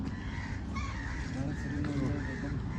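Crows caw repeatedly outdoors in a park, their harsh calls rising and falling in a loose rhythm over a low background murmur of voices.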